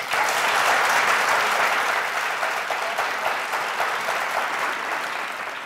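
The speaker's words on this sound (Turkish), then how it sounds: "Alkış." An audience bursts into sustained applause, dense crowd clapping that is loudest at the start and then holds steady, gradually easing slightly over several seconds without talk.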